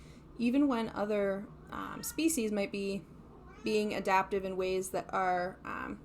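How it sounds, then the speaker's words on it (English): Daryl the cat meows repeatedly, close and insistent, in a string of drawn-out cries that overlap a person talking steadily nearby. "sorry if you can hear Daryl, he's meowing at me"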